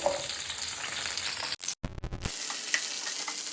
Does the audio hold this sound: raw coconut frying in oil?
yes